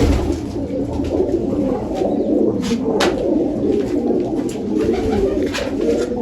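Pigeons just released in a village coo again and again in soft, rolling calls, close and steady, with a few sharper chirps mixed in and no talk.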